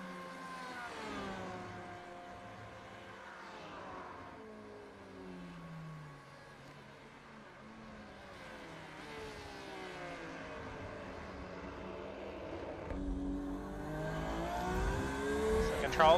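Onboard a Porsche 911 race car lapping Spa-Francorchamps in iRacing, engine pitch rising and dropping through gear changes and braking, moderately loud and building toward the end, with commentary speech over it.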